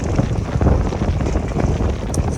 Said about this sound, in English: The wind is picking up pretty good.